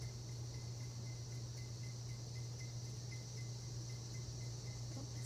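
A cicada caught by a cat keeps up a steady, continuous buzzing drone throughout, fairly faint against a constant background hum, with no talk.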